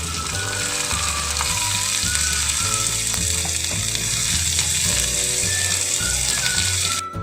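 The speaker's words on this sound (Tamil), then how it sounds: "ஆனியன், பச்சை மிளகா, அதுக்கப்புறமா பூண்டு வந்து நல்லா வதங்கட்டும்" Onion, green chilli and garlic sauté in a tiny miniature cooking pan, giving a steady, close sizzling hiss with quick repetitive clicks and scrapes throughout and no talking.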